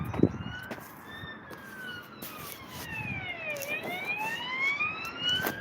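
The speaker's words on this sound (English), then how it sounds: "oh, just an ambulance." A wailing ambulance siren sweeps up and down in pitch, growing louder as the vehicle nears, over faint traffic rumble, outside HMP Norwich prison.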